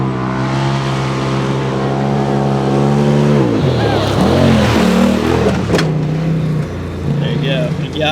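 A Polaris RZR Pro R or Turbo R off-road side-by-side races around a corner, its engine droning at a high steady pitch, then dropping and revving again through the turn, loud and close beneath someone talking.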